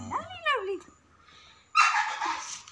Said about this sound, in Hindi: वो भौंके जा रहा है सब पर।